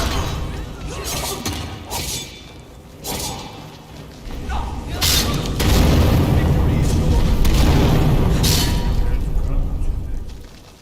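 Deep cannon-fire-like booms and thuds sound in the Skyrim Special Edition video game during the Alduin's Wall quest, rolling and heavy, overlapping into a sustained rumble with whooshes, under occasional talk.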